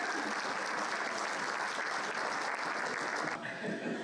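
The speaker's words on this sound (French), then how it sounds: "Applaudissez-vous, mesdames." Women in an audience applauding themselves, a continuous, even patter of many hands that drops off slightly near the end.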